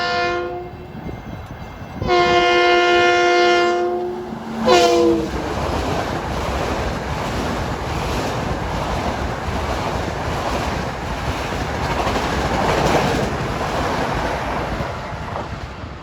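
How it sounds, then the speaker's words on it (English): A commuter train horn sounds in long blasts at New Hyde Park station, then a loud, close rumbling roar of passing rail cars continues steadily for many seconds. "That was train 1730 from New York to Huntington."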